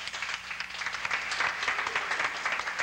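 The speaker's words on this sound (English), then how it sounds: "The cast and crew break into applause." The cast and crew of a film shoot burst into applause after a successful stunt take, a lively round of many hands clapping throughout with distinct individual claps.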